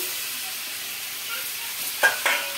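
Tomato is stirred into a pan of frying potatoes and spices, giving a steady soft sizzle with two brief louder scrapes of stirring near the end.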